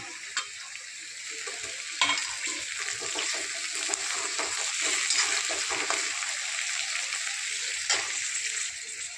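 Chopped tomato stirred into browned onions frying in a pan, a constant loud sizzle broken by repeated scraping spoon strokes and clacks, with no voices.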